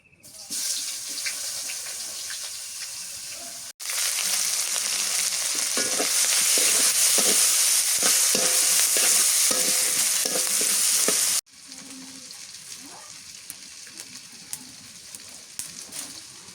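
Chopped onion sizzles loudly in hot oil, the frying growing louder and more intense in the middle before settling back to a softer crackle.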